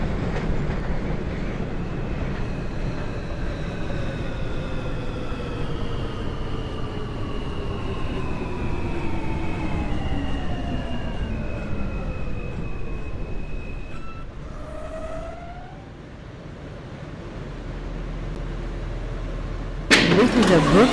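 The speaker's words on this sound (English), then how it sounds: "This is a Brooklyn-bound M local train." A New York M local subway train in the OpenBVE simulator runs steadily with a loud rumbling roar and whining motor tones that glide downward as it slows, followed by a sharp burst at the end.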